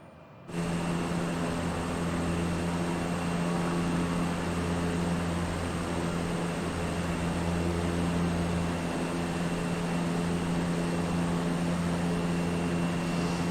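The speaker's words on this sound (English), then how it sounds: "you can hear the motor running, the engine running, but you can also hear that of like air blowing by." A propeller airplane engine drones steadily with a constant hum and a rush of wind in Microsoft Flight Simulator, loud and unbroken after a brief quiet start, with no talk.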